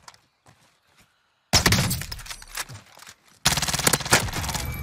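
Rapid bursts of MAC-10 submachine gun fire in Call of Duty Warzone, loud and close, two long automatic volleys after a quiet start with a few faint taps.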